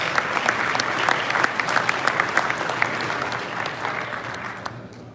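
Crowd applause at a Hot Wheels collectors nationals event, dense clapping with sharp individual claps standing out, sustained for about five seconds before easing slightly at the end.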